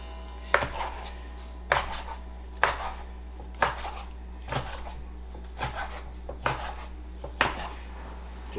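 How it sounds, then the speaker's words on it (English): Chicken is cut up for tacos on a board with a knife, making about nine sharp chopping knocks in a fairly steady rhythm over a low constant hum, loud and close. "And then, after we get it cut up, we're going to throw it in the skillet with some butter."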